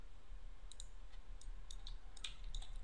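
A few sparse, crisp keyboard keystrokes come from someone typing in the Unreal Engine 4 editor. The clicks are short and spaced irregularly over a steady low background hum.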